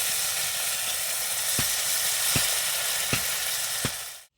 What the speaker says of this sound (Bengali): এইভাবে কিন্তু ভেজে নিচ্ছি